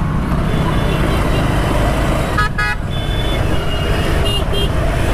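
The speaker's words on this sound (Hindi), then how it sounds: "ये बहुत ज़्यादा चलने वाला रोड भी नहीं है फिर भी आपको इतना ज़्यादा ट्रैफिक देखने को मिल रही है।" Heavy road traffic in Ayodhya rumbles loudly and continuously, with short car and vehicle horn toots cutting through twice amid the engine noise.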